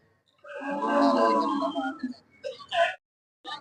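Cattle at Melur cattle market, a long drawn-out low moo near and loud, followed by a few shorter calls and noises against a fairly quiet background.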